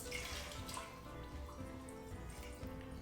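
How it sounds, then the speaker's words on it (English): Water is poured into a measuring cup on a kitchen counter, a steady close splashing and trickling stream that runs on without pause for about three seconds. "we are going to measure 2 cups of water"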